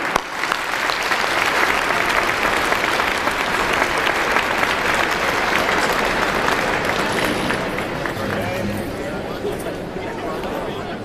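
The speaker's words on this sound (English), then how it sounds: "let's leave with one final round of applause for Sal, Shushu, Sai, and David." Sustained applause at an anniversary dinner for journalists fills a large room. Steady clapping mixes with crowd chatter and gradually eases toward the end.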